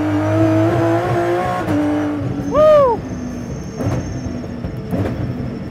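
Aston Martin Vulcan supercar on a racetrack, its engine note rising and whining as it accelerates, loud and close, with a sharp pitch sweep as it passes.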